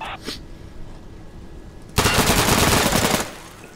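Automatic gunfire in the video game Insurgency rattles in one sustained burst of about a second, preceded by a faint isolated shot and quiet game background.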